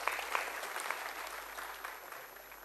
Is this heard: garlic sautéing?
no